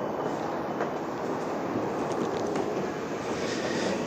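A train passes Woodside station in Queens, a loud continuous rumble and clatter filling the whole stretch without pause.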